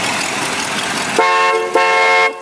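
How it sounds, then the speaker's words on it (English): A 1964 Cadillac Coupe Deville's horn blares twice in close succession, loud and near, the second blast held longer against a steady background hum. "You want to hear the horn?"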